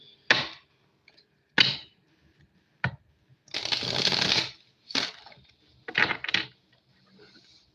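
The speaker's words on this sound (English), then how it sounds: "Let me at least shuffle the deck" A series of crisp tarot card riffles and snaps, some short and one longer shuffle, separated by quiet pauses, close up with no speech.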